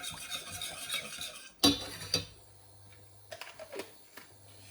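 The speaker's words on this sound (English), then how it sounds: "now what you do is just stir. and heat this up." A spoon stirs a melting mixture in a pot for a Lithuanian anthill cake (skruzdelynas), giving scraping clatters and a loud knock against the pot, with faint sizzling in between and no talk.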